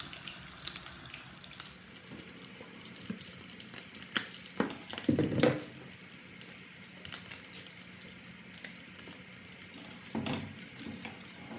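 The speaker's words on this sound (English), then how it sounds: "Then I'm now shallow frying." Fish fillet shallow frying in a pan for a Kenyan home dinner, giving a steady low sizzle with occasional clinks and stirring clatter, and a louder burst of crackling partway through.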